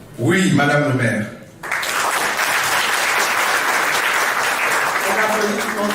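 At a civil wedding ceremony in a town hall, loud applause from the gathered guests breaks out after a voice, then carries on as steady dense clapping through the rest of the clip.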